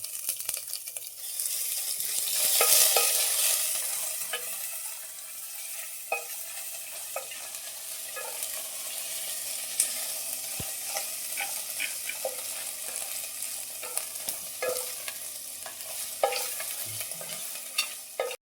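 Cumin, bay leaf, a cinnamon stick piece and thick crushed garlic and ginger sizzle steadily in hot oil for dal gandori tempering, with a broad frying hiss and scattered clicks of stirring, close and alone with no voices.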